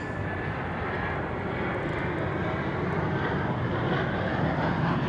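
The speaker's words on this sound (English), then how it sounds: "to see the arrival of American Flight 1098 from Kansas City, 737-800" An American Airlines Boeing 737-800 arriving at DFW Airport, a loud, steady broadband engine roar that holds for the whole stretch with no voices over it.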